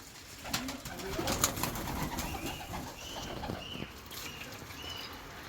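Pigeons coo softly and repeatedly nearby, with a flurry of flapping wings and light pattering in the first seconds, against a steady outdoor background.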